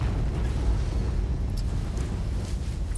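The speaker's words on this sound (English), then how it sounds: "Another explosion." Low, continuous rumbling boom from an explosion in Horizon Zero Dawn, a loud sustained roar of heavy low-end energy lasting a few seconds with no voices over it.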